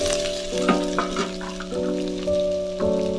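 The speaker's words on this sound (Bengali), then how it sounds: "এবার আমি এর মধ্যে ডাটাটা ভেজে রেখেছিলাম ওটা দিয়ে দিলাম" Pre-fried cauliflower stalks go into a hot pan of oil and lightly fried onion for a Bengali chorchori. Steady close sizzling is marked by a few sharp stirring clinks, with a constant tonal hum running underneath.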